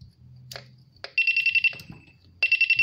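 An Intelbras IPR8000 intercom ringing after being powered on during repair, giving loud electronic ring bursts after a few clicks and a low hum, then a pause and another burst of ringing.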